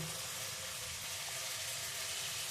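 Ground cumin, coriander and chili powder frying in a pan for Kashmiri aloo dum, giving a steady close hiss and sizzle throughout, with no talking.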